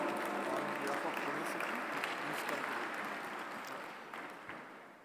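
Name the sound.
audience applause welcoming a speaker on stage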